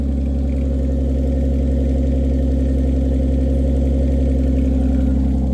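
A turbocharged Lexus IS200 engine runs steadily, close and loud, with a deep even low-pitched drone and no clear revving across the whole stretch.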